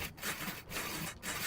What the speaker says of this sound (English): That conventional buzzsaw.